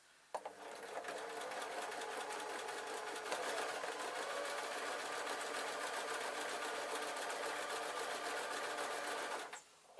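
A sewing machine stitches trouser lining at high speed in one continuous, loud, close mechanical whir with a rapid even clatter, starting and stopping abruptly, and no voices over it.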